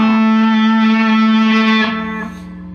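Electric guitar played with an EBow, one sustained, smooth, violin-like note held loud and near, then sliding down in pitch with vibrato and fading toward the end.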